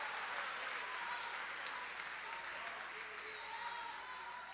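Church congregation applauding during a sermon, a continuous soft patter of clapping heard from a distance under a faint wash of crowd sound, with some voices mixed in.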